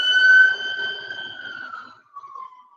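A single siren wail sounds loud and clear on its own, holding a steady tone before sliding downward and fading out.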